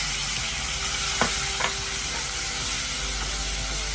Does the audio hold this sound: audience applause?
no